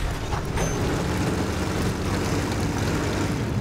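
Propeller airplane engine drone in the Battlefield 1 video game, Sinai Desert conquest map, a steady loud broadband roar held throughout without pause.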